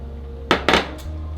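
Fifty grams of strawberries, blueberries and bananas are dumped into a bowl, giving two or three quick, close clattering knocks followed by a faint settling tap.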